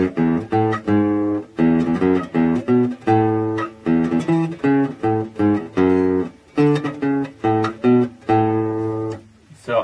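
The Happy Birthday tune is picked out note by note with one finger on a single guitar string, played slowly and evenly with clear, separate notes and no talking.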